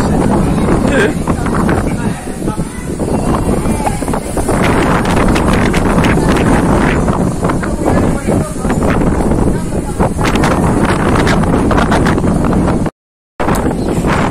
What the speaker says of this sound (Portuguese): tá ventando muito, olha isso.